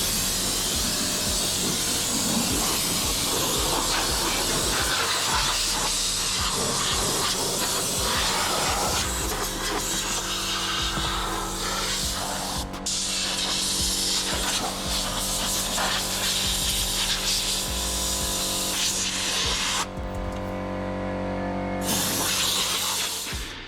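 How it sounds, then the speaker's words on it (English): Compressed air blasting dirt out of the engine bay of a Ford AU Falcon, a loud steady hiss running almost continuously with brief dips and shifts in pitch, no talk. "It's time to use some compressed air and just get all that dirt and crap out"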